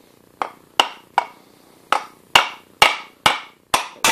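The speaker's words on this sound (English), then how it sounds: "I'm going to strike this with a plastic hammer." A plastic hammer strikes a belt sander bearing in a series of sharp, close knocks, about nine blows in an irregular rhythm with brief ringing decays between them.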